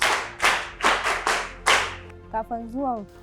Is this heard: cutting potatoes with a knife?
no